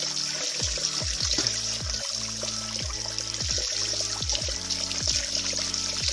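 Spring water trickling at an outdoor natural spring, a close, steady stream with repeated bubbling glugs falling at a regular rhythm over a soft outdoor background.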